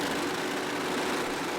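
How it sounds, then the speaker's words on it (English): Superbike engines held near the rev limiter on the grid at a VIR race start, a dense, steady high-pitched buzzing drone that stays loud and unbroken throughout. "I think the big thing, Greg, you're going to see those lights turn red, and you're going to hear the revs pin"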